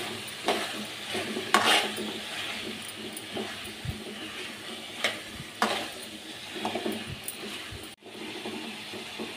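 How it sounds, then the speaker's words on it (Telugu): A spoon stirs cucumber and tomato curry with chili powder in a hot pan, scraping steadily with a few sharper knocks against the metal over a soft, continuous sizzle. "ఇప్పుడు ఈ కారం మొత్తాన్ని కర్రీకి పట్టేటట్టు మిక్స్ చేసుకోవాలి."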